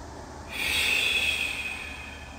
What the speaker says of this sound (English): inhaling through the nose to a count of 5, holding it for a count of 5, and exhaling through the lips to a count of 5